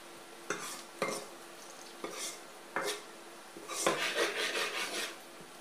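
Chopped ingredients fry in a pan while a spatula scrapes and clatters against the metal in several distinct strokes, with a low sizzle beneath and a busier burst of stirring near the end, all without speech.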